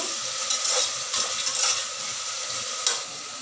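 Turmeric frying in a pan for vegetable rice, a close, steady sizzle with quick bursts of spoon scraping and stirring, no voices present.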